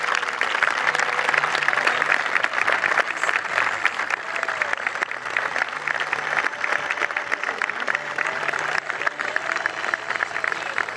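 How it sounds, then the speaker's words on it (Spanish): Sustained applause from a crowd, steady clapping filling the whole stretch with a dense, even texture and no break. "Un aplauso, por favor."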